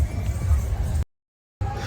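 A horse lazily stretching in the stables of the Sarangkheda horse fair, heard as a brief snort amid steady crowd and animal noise, which cuts out briefly and returns with voices in the background.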